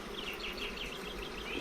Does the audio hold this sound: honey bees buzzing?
yes